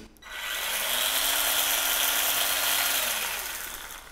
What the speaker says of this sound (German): Und schon kannst du oben sägen.